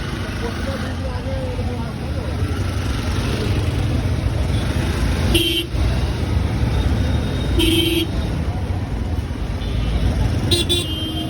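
Busy traffic jam at the Mohammadpur three-way junction in Bangladesh, heard from a motorbike: a constant engine and road rumble, short car horn toots sounding three times, and people talking beneath the noise.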